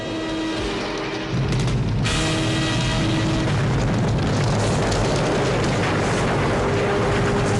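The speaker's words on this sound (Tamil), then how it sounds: "அந்த எரிமலை வெடிச்சு சிதறிக்கிட்டு இருக்கு." A cartoon volcano erupts in a He-Man animated episode. After a quieter opening second, a loud, dense roaring rumble bursts in and holds steady to the end, with no voices.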